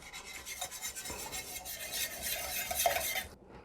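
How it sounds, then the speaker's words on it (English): A whisk scrapes and stirs through tomato gravy with fresh thyme leaves in a pan, a close, rhythmic rasping and metallic scratching that continues steadily before stopping short at the end. "Grab a whisk, give it a stir."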